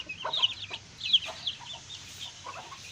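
Aseel chickens, a rooster with hens and chicks, cluck and chirp close by in short irregular bursts over quiet outdoor background, with no talking.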